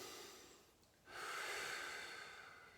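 A quiet, deep breath taken during a morning leg and upper body stretching session: a faint intake, then a louder airy exhale swelling and slowly tapering off, close and alone.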